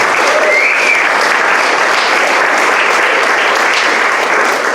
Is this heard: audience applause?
yes